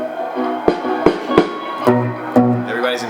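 A recording of a 1977 performance at Barton Hall plays in the background with sharp rhythmic guitar chord stabs and a steady groove, fairly loud and without talk.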